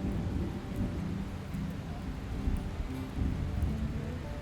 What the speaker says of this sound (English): A little while later, we got more rain. However, it was a gentle rain and helped cool it down some.